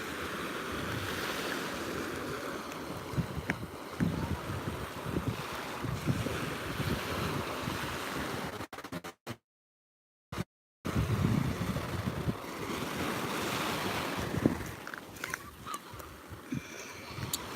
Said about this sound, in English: There's a really nice breeze, so it's not crazy hot